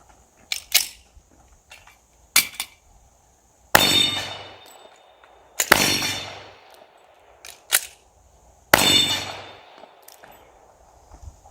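Shots ring out against a steel dueling tree target on a range: several sharp cracks, each trailed by a ringing metallic clang, come in spaced bursts with small ticks between them, loud and close, with no talking.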